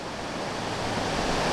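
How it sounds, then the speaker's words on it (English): The Bald River waterfall pours in a dense, steady rushing roar, loud and continuous with no break, heard alone without any voices. "this is just an impressive waterfalls. This is the Bald River"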